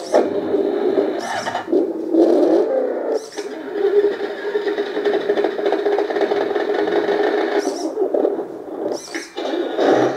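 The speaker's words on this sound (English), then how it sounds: "Change engine sound." Simulated diesel engine sound from a 1/14 scale RC Komatsu WA480 wheel loader, a steady mid-pitched rumble with rattling texture running throughout, broken by a few brief higher chirps or clicks.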